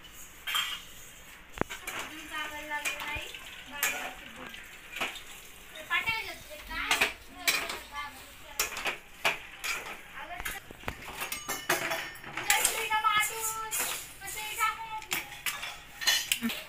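Metal utensils clink and scrape against a pan while roasted spices, including dried stone flower, are stirred together. The soft, irregular knocks run steadily beneath continuous talking.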